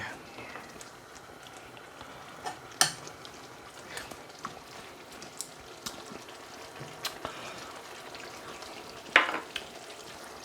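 Chinese-style chicken curry sauce thickened with flour frying and being stirred in a pan: a low, bubbling sizzle with occasional sharp utensil knocks, under a person's talk.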